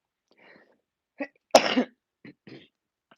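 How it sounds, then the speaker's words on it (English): A single sharp sneeze bursts out close by, surrounded by a few faint breathy sounds before and after. "I'm going to sneeze."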